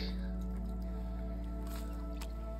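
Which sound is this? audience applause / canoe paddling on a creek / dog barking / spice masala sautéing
canoe paddling on a creek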